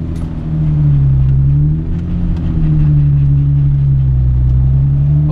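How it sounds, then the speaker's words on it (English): A car with a welded differential hums along with a steady, loud engine drone and slight rises in pitch, no whine or clunks, heard close and alone. "You can only hear engine."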